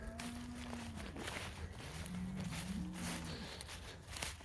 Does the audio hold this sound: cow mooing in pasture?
yes